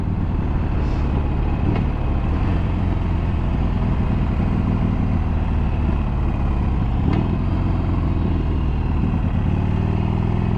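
A 2014 Harley-Davidson Sportster 48 is being ridden, with a steady low engine rumble mixed with wind noise throughout and a couple of faint clicks.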